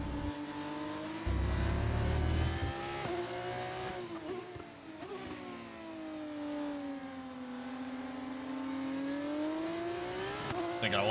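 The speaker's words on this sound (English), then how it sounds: "It's crazy how much better the F2 cars sound. Well, that's because that's the V8 engine you're hearing." F2 race car with a V8 engine in the racing video game F1 25, the engine revving and shifting through rising and falling pitch sweeps, loud and continuous, with a brief scrape partway through.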